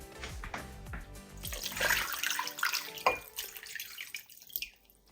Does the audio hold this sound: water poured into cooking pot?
yes